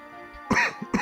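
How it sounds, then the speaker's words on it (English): A short throat-clearing cough, two quick close bursts, heard in isolation during a Yu-Gi-Oh! The Falsebound Kingdom gameplay session. "I'm like about to open my mouth to speak and all of a sudden, I need to cough"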